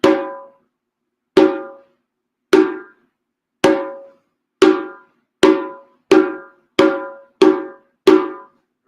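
Hand drum tone strokes, a flat hand striking near the drum's edge during a rhythm circle lesson: ten clear, ringing single hits, spaced unevenly and coming faster toward the end, each decaying quickly into silence, close and loud.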